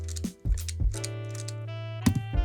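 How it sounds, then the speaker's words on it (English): Clicky mechanical switches on a Tornado V3 keyboard, several sharp keypresses in an irregular burst, close and crisp, over a steady hum. "doesn't have the clicking sound that this one has if you just listen"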